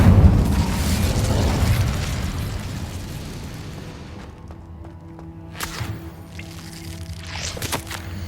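An Incendio fire spell is cast in the video game Hogwarts Legacy, a loud whooshing, rumbling burst of flame that fades away over several seconds, followed by faint game tones and a few soft clicks.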